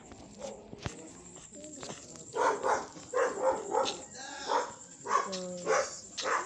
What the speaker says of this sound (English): there's dog